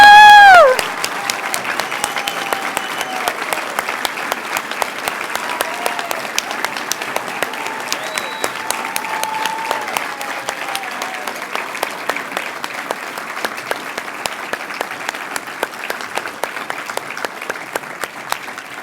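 A large audience at a nursing excellence awards gala bursts into sustained, dense applause after a brief opening cheer, steady clapping filling the room without letup for nearly twenty seconds.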